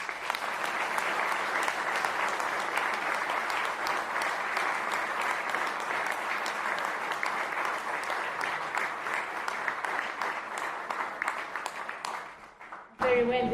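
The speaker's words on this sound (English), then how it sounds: "Very well-deserved round of applause for Kenneth, for this talk" An audience applauds after a talk about Valletta's Triton Fountain, a dense, loud, sustained wash of clapping that runs for over twelve seconds before cutting off abruptly.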